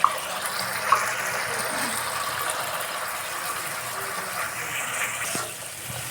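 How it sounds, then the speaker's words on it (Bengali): Water poured from a freshly rinsed bowl into frying spice paste with Kashmiri chilli powder for a pomfret curry, a steady soft gushing splash lasting several seconds at close range before tapering off. "ওই বাটিটা ধুয়ে সামান্য পরিমাণ জল দিয়ে দেব"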